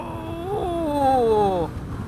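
A 2014 Honda Valkyrie motorcycle engine drops through the gears, its close, loud hum sliding upward and shifting pitch in steps before easing off, over a constant rumble of wind and road noise.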